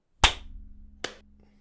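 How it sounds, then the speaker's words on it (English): A pair of crisp hand claps for podcast audio sync, the first louder, the second following about 0.8 seconds later, both close with a brief ringing decay and no talk. "We didn't do our clapping."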